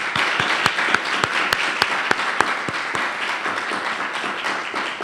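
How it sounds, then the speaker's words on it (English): Audience at a campus student-voice research premiere gives a round of applause, steady crowd clapping with a few sharp, distinct claps standing out, continuing evenly throughout. "She deserves a huge round of applause."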